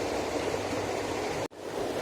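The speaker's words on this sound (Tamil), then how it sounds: "இப்போ ரைஸில் வந்து தண்ணியை நல்லா வடித்தாச்சு." Water drains steadily from parboiled basmati rice in a home kitchen, a broad continuous rushing pour with a brief cutoff near the end before the flow resumes. No one speaks.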